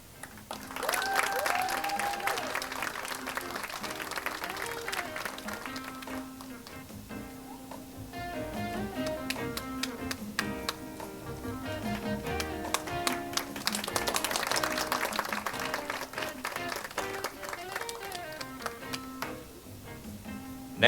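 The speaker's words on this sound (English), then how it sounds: "please give a big round of applause for our first graduate" A round of applause for a graduate at a ceremony, scattered clapping that swells, eases off and then rises again, moderately distant, with light background music.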